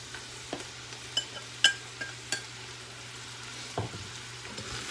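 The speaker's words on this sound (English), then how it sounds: "Go ahead and give that a nice stir." Mushrooms stirred into beef bolognese in an Instant Pot, a few light scraping clicks and knocks spaced over a low steady hum, with a faint sizzle underneath.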